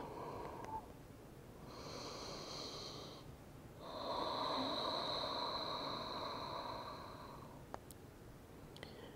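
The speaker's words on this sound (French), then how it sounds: "Et on prend ici 5 longues respirations profondes." Long, deep breaths during a French vinyasa yoga session, two slow, airy inhale-exhale cycles with a faint whistling quality, close and quiet, with no talking.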